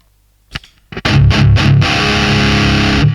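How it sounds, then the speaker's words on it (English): A few sharp picked notes ring out, then a heavily distorted chord from a mahogany Les Paul-style guitar with Seymour Duncan pickups through an ENGL amp crashes in and sustains loudly until it cuts off. "the Seymour Duncan distortion that is in this really nice full mahogany Les Paul ish guitar"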